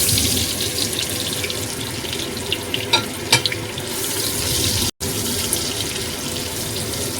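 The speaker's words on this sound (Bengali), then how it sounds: "এবার লাউটাকে দিচ্ছি ফ্রাই করতে।" Pieces of bottle gourd fry in hot oil in a pan in a home kitchen, giving a steady close sizzle and hiss with a few light clinks and no talking.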